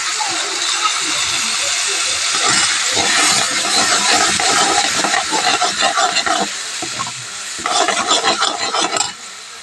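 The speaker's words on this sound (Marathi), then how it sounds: "थोडंसं पाणी टाकून देऊया." Water poured into a hot pan of frying masala with red chilli powder, turmeric and salt sets off a loud hissing sizzle with steam and stirring scrapes, rising in bursts then easing, with talk alongside.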